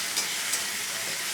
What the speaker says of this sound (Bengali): চিংড়ি মাছটা আমি পরে দিলাম, কেননা এটা যাতে খুব কড়া করে ভাজা না হয়ে যায়